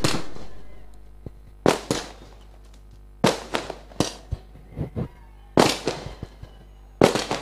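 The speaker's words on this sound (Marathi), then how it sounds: "फटाक्यांची आतमबाजी पाहायला मिळते" Fireworks burst at a local cricket tournament final celebration, with sharp loud cracks coming in clusters and separated by short pauses, each burst followed by smaller crackling pops.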